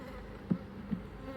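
Honey bees buzz around an open hive during an inspection after about three frames were shaken out, a steady low hum with two brief louder swells as individual bees pass close.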